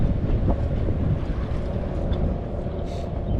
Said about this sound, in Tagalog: Lakas ng hangin mga master